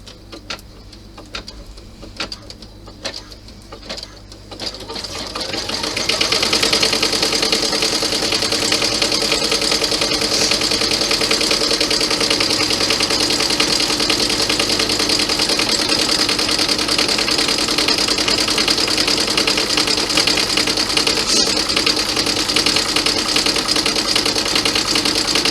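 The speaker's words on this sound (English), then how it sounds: "And then do your satin stitch." A sewing machine runs a satin stitch on a cross-body messenger bag: a few light clicks and handling noises, then a fast, steady mechanical whirring hum that continues unbroken at close range, with no talking.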